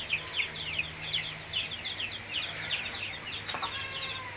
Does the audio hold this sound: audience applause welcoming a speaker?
no